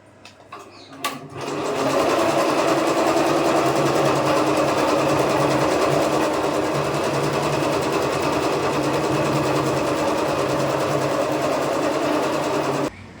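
A computer embroidery machine about a year and a half old starts up and runs steadily, a loud continuous mechanical whir with rapid needle stitching that holds level to the end after a brief start.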